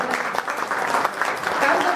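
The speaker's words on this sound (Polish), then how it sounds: "Oklaski dla Fundacji" Audience applause in a Polish awards-ceremony hall for the Freedom from Religion Foundation nominee, a continuous patter of many hands at moderate level.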